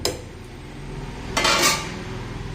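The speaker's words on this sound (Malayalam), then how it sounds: "അങ്ങനെ അരിയെല്ലാം ഇട്ട് കൊടുത്തു നന്നായി ഇളക്കിയ ശേഷം" A utensil stirs ration rice in a cooking pot, making soft scraping and a brief louder clatter of metal against the pot midway, with a steady low hum in the background.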